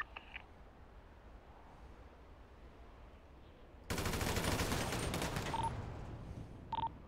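Rapid automatic gunfire erupts partway through a police SWAT training match in a video game, a dense, sustained burst following a quiet stretch, with a couple of faint electronic beeps near the end.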